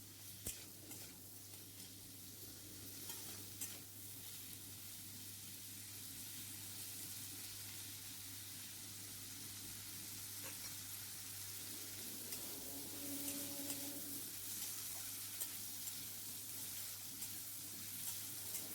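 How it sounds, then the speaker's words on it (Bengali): Potato and pointed gourd pieces fry with salt and turmeric in a pan, producing a faint, continuous sizzle with occasional stirring scrapes, alone and without talk. "এতে আবার আমি সামান্য লবণ আর সামান্য হলুদ দিয়ে ভালোভাবে নেড়ে লাল লাল করে ভেজে নেব।"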